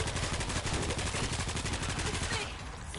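Rapid automatic fire from a .50 cal turret in a zombie survival video game, a loud continuous stream of shots that cuts off near the end, with voices talking faintly underneath.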